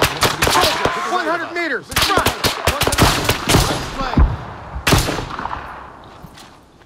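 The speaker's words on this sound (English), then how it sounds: "Enemy fire!" Gunfire in an Arma 3 firefight: repeated rifle shots and bursts crack close and loud, with shouted voices between them.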